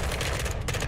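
Rapid automatic M16 rifle fire in the video game Modern Warfare II, a dense, continuous stream of loud shots filling the whole short burst with no talk over it.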